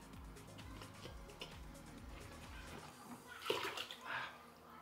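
Water gurgles and bubbles through a PC watercooling loop as its pump is primed, a soft continuous trickle with low gurgling pulses that swell into a brighter bubbling rush near the end, close but quiet.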